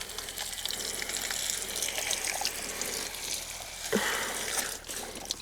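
Water gushes and trickles into a small hand-made well of soil around a garden rose, a moderate continuous pour that swells near the end, with no talking.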